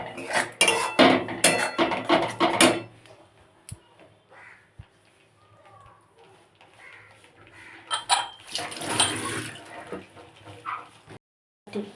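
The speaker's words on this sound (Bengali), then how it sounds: "এবার কিন্তু অল্প অল্প করে আমি জল দিতে দিয়ে কষতে থাকবো" On a low flame, masala for a curd fish curry is worked in a pan as water is added a little at a time: bursts of close metal scraping and clanking separated by a quieter stretch, with faint crow caws in the background.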